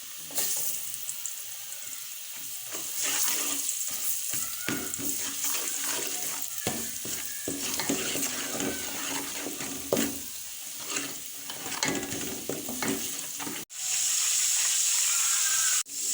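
Onions with a spoonful of ginger garlic paste sizzle in a pan for a long stretch while being stirred with scraping strokes. The hiss briefly drops out, then returns strongly near the end.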